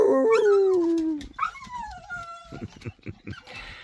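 A pregnant female dog whimpers and howls in rising, wavering cries, then gives shorter yips and whines, close and fairly loud.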